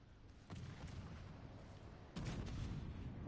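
Torpedoes launching from the battleship Alabama in the naval game World of Warships Legends, a low rumbling whoosh that swells midway into a louder, heavier surge over steady background roar.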